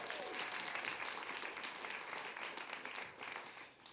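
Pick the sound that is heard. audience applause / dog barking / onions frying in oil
audience applause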